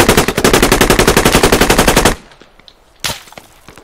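Automatic gunfire in the Squad video game on Logar Valley: a loud, rapid stream of shots for about two seconds, then silence, then a single sharp burst.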